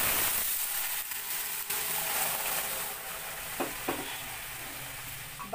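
Split pea dal poured from a pressure cooker into hot tempering, giving a steady broad sizzle and hiss throughout with a few soft scrapes and clinks near the end.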